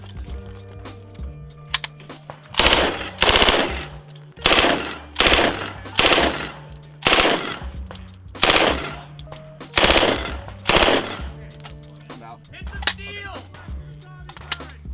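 A Thompson M1A1 submachine gun fires at a shooting competition, about eight loud rapid bursts spaced a second or so apart, with quieter mechanical clicks between them.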